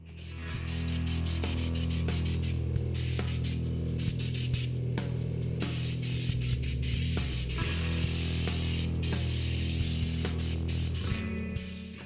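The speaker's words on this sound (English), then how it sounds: "make sure you spray it so it doesn't get seized together" Spray gun hissing steadily as it applies Fluid Film undercoating to a car in a garage, a loud continuous spray running almost unbroken, with a few brief pauses and small clicks.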